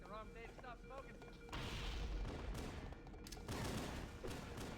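Booming grenade explosions from the Halo video game, fired off in rapid succession, loud and dense, following a brief stretch of voice at the start.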